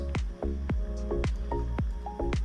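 Lobster pasta being stirred in a pan gives repeated wet, squishy smacks about every half second, close and fairly quiet, with a soft background hiss and no talk.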